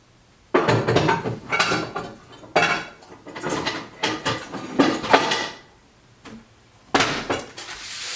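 Metal pans clank and scrape as they are shuffled and set down in a kitchen, several loud close knocks and rattles in bursts with quiet gaps.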